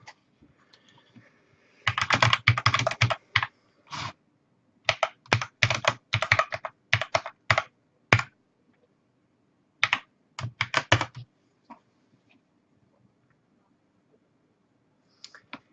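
Someone types on a computer keyboard in bursts of quick close clicks separated by pauses, sharp and distinct against a quiet room with no talking.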